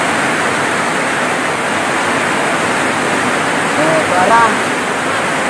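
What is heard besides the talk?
heavy rain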